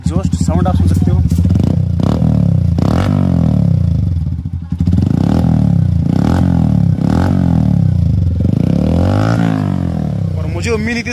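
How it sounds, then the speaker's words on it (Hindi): Bajaj Platina 110 motorcycle fitted with a modified aftermarket exhaust, revving loudly and close by in repeated throttle blips with a rough, throaty rumble, running continuously throughout. "ये लगा रहा है गाइस एक्रोपब्लिक का एग्जॉस्ट,"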